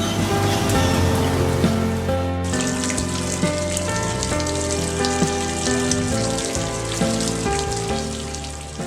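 Heavy rain falls in the Atlantic Forest, a dense, continuous hiss of downpour that holds steady and loud for the whole stretch, with no voices.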